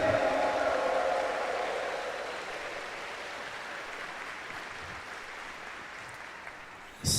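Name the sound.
congregation applauding in church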